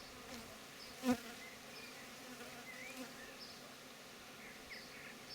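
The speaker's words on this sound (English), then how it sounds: "Lots of them fanning there on the front of the hive." Honeybees fanning at the front of a hive produce a steady, soft insect buzz with a brief louder drone passing close by, heard alone at low level.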